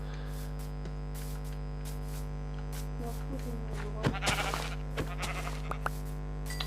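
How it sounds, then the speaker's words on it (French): A sheep bleats in the Minecraft video game, a few short bleats and thin cries over a steady electrical hum, fairly faint and spread across several seconds with no talk. "Ah désolé, je vais tuer un mouton."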